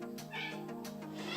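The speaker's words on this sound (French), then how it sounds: "C'est mon chat que vous êtes en train d'entendre" A house cat meows twice in quick succession, close and clear, each call a short rising-and-falling yowl.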